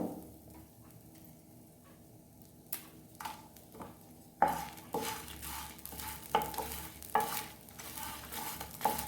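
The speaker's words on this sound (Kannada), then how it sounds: "ತುರಿದು ಕಲರ್ ಚೇಂಜ್ ಆಗಬೇಕು, ಅಲ್ಲಿವರೆಗೆ ಫ್ರೈ ಮಾಡಿಕೊಳ್ಬೇಕು" Grated coconut and pepper fry quietly in a pan, a soft sizzle broken by scattered scraping stirs and sharp spoon taps against the vessel that grow busier and louder partway through.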